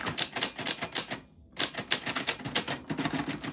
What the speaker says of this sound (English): since there's no typewriter exclamation point, I am making one with a period and a backspace.